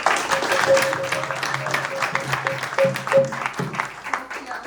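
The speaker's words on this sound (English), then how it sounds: "Clap, clap." Audience applause breaks out at a gathering for a devotee introduced as a zonal supervisor, a broad wash of clapping mixed under a voice and some tonal background sound.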